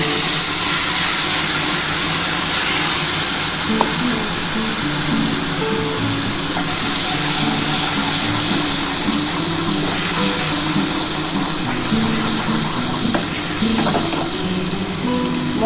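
A spice paste fries in hot oil left from frying pomfret fish, giving a loud, continuous close hiss and sizzle with faint stirring taps underneath and no talking.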